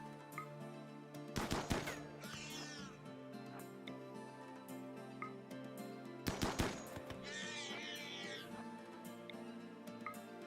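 Colonists fire at Gorehawks in a video game. Two loud bursts of rapid gunfire arrive several seconds apart over a steady game background hum.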